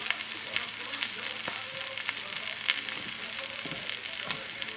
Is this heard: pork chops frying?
yes